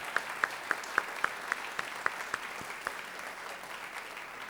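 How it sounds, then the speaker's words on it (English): An audience at a high school jazz concert gives steady applause, a dense wash of clapping with a few sharper, nearer claps standing out in the first few seconds. "So if we can give Sandra a round of applause."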